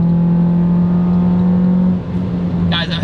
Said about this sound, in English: I am flooring it around the corner.